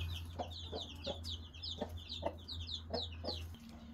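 Chickens cluck and chatter close by inside a coop, with repeated short clucks and higher squawking calls over a steady low hum.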